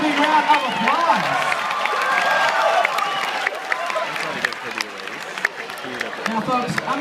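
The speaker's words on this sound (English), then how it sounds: "Let's give him a big round of applause." A fair crowd claps and cheers for the winning pig after a pig race at the OC Fair, the applause rising under an announcer's voice and fading as talk continues.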